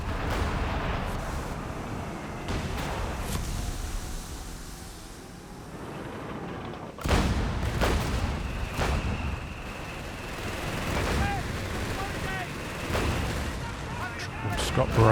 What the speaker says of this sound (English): Got barrage, but not hitting too much with it.